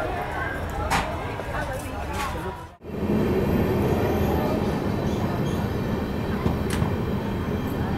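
The Asarwa–Udaipur inaugural special broad-gauge train departs Nandol railway station with a steady rolling rumble of wheels and carriages. A brief dip comes before the noise builds to a sustained roar close by.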